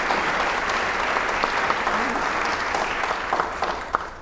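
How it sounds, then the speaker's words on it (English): Steady applause from an event audience honoring sponsors, a dense, even wash of many hands clapping throughout with a few louder claps standing out near the end. "Please join me in giving all of them a round of applause"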